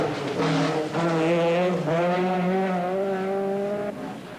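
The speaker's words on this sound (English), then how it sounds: "Russell is determined to close the gap and is driving absolutely flat out" Rally car from the mid-1980s British rally scene driven flat out on a stage, engine note climbing steadily through two long upshifting pulls with a brief dip between, loud and close with no talk.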